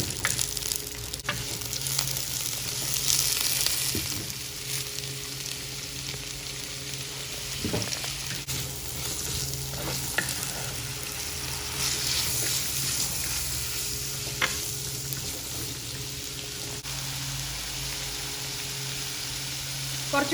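Sliced onions fry in hot coconut oil in a pan, a continuous soft sizzle and crackle holding steady throughout, with an occasional faint clink or stir and no talk.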